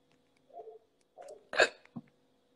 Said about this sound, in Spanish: Tengo hipo.